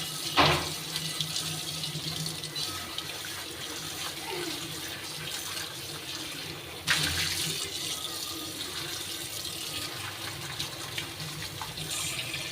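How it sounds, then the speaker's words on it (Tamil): An iron pan with rust on it is rinsed under a running kitchen tap, a steady splashing stream of water hitting metal that continues throughout, with a sharper burst of splashing partway through. "இப்போ கழுவிடுங்க பேக் சைடும் கழுவிட்டுக்கலாம்"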